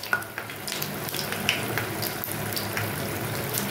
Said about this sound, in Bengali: যেহেতু আমার জায়গাটা ছোট তাই আমি ছোট ছোট ভেজে নিচ্ছি